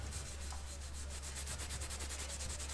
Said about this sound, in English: Quick Scotch Brite.